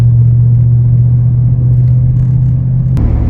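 A Jeep cruising at highway speed, around 70 mph, fills the cabin with a loud, steady low engine and road rumble and a constant drone, with a brief bump near the end.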